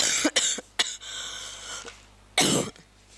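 Several harsh coughs come in quick bursts, close and loud, with a final heavier cough after a short pause.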